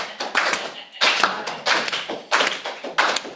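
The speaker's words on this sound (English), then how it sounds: "clap at least a couple times" A church congregation claps in several short bursts during a slow turnaround at a Sunday celebration service, the claps coming in close clusters with brief gaps and no talk over them.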